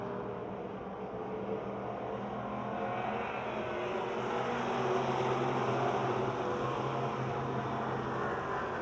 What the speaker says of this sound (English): Jake Simmons looks to be the faster of the two through the turns